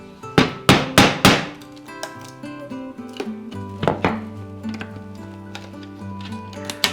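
Sharp hammer blows knock around nails to pry them out of an old wooden window frame, a quick burst of four loud strikes followed by several lighter taps and knocks with ringing tones in between.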